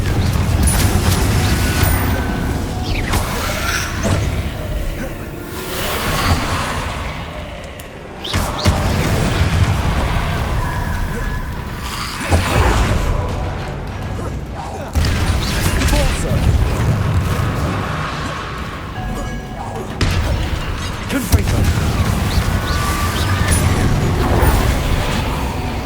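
Repeated magical Confringo fire-spell explosions in the Hogwarts Legacy video game, a dense run of loud booms and blasts with combat effects layered continuously throughout.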